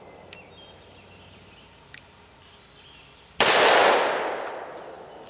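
A .357 revolver fires a single loud, close shot at a soda bottle, and the report rings out and decays over more than a second. Two faint, brief ticks come before it.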